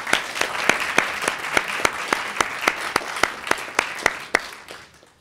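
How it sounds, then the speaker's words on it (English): Audience applause for a student government executive candidate at a campus forum: a steady, near run of distinct claps in an even rhythm that thins and fades out at the end, with no voices. "Let's give him a round of applause, please."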